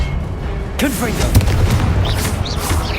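A Confringo blasting spell explodes in Hogwarts Legacy, a sudden loud burst followed by rumbling booms and crackling debris, with a voice heard alongside the blast.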